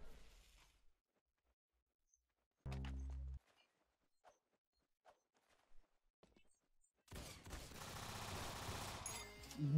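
A shotgun fires in Roblox Arsenal, one loud blast standing alone, followed by scattered light clicks and footsteps and then a dense burst of gunfire near the end.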